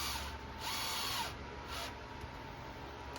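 A small screw is driven into the rear bumper of a Yikong YK41011 RC car, heard as a brief, faint whirring buzz from a power driver in two short bursts over low background hiss.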